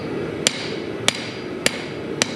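A hand hammer strikes a hot knife blade on an anvil in a forge, four sharp metallic blows at a slow, even pace over a steady background hum, with no talking.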